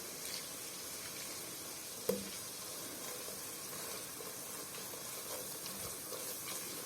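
Onion and tomatoes sizzle in a pan for koshari, a soft, even frying hiss with a single faint clink early on, quiet and unbroken.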